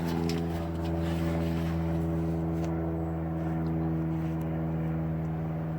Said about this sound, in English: I can't hear it with the airplane going overhead